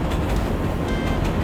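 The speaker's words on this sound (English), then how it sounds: "As you can see, the train is right here." A train rolls past close by on an outdoor Bronx street, a steady loud rumble with rhythmic clatter of wheels over rail joints for a second and a half.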